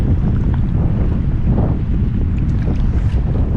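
Strong ocean wind buffets the microphone during kayak fishing, giving a loud, steady low roar throughout. Faint water sloshes under it, and no one speaks.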